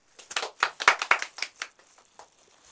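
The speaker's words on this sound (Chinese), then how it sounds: "掌声有请。" Guests at a ceremonial whole roast lamb presentation break into a short burst of hand clapping that swells, peaks, and tapers off within about three seconds, heard nearby with no talk over it.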